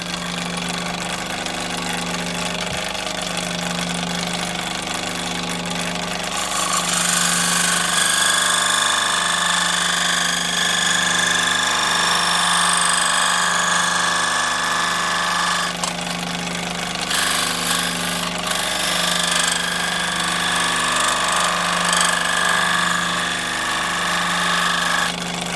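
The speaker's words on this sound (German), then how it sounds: "jetzt gehen wir noch mal einmal in die Säge hier" A power saw cutting small parts for the tail of an F3K model glider, a loud, continuous whining buzz with a rhythmic pulsing hum that rises in intensity partway through, with no talking.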